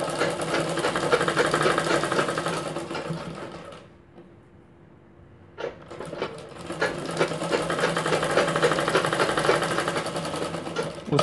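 A sewing machine stitches piping onto a cup blouse in a steady, whirring run, stops for about two seconds, then starts again and keeps running near and alone.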